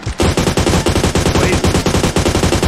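Loud, rapid automatic gunfire in a shooter game, a steady rattling stream of shots at an even fast rhythm lasting almost three seconds, close and dominant with little else beneath it.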